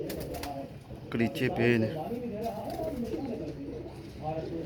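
Pigeons, including an old teddy pair, cooing in soft, throaty, repeated calls close by, running under someone speaking Hindi/Urdu.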